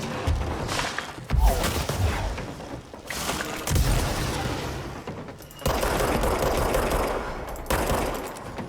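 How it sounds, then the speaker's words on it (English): Gunfire in the Control video game: bursts of rapid automatic shots fired into the air, loud and close, with short pauses between sustained volleys and thudding impacts. "Just fire a whole bunch of bullets at the air, mostly."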